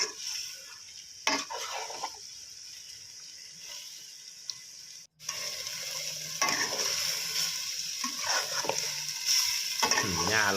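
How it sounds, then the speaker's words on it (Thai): Chicken for a Thai jungle curry stir-fried in a pan after a little water is added, giving a steady close sizzle with scraping stir strokes, a brief break midway, then louder continuous frying. "แล้วก็ผัดไปเรื่อย ๆ เพราะว่ามันแห้งเกินไปนะครับ"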